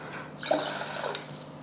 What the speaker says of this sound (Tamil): கொஞ்சம் கடையிற அளவுக்கே நம்ம தண்ணி ஊற்றுவோம்